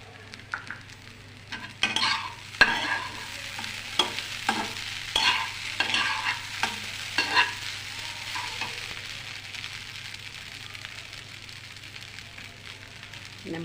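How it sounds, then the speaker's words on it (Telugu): Idli pieces frying in a pan with a little chili powder for idli chaat: a steady close sizzle broken by a run of sharp spatula scrapes and clatters in the middle, then settling back to an even fry. "కొంచెం ఫ్రై చేసుకోవాలి."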